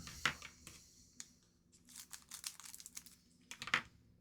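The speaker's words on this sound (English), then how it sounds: "Always tap them down so I don't cut the tops of the cards." Upper Deck Marvel Beginnings trading cards tapped down to even the stack, soft dry clicks and paper rustles spaced out over a few seconds, quiet and close with no talk.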